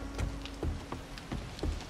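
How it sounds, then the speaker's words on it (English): Steady rain falls in the survival video game Darkness Falls, a soft, continuous patter with a few sharper drops tapping through it, fairly quiet and with no voices. "And it's dark and it's raining."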